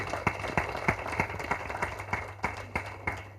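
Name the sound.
audience applauding at a convention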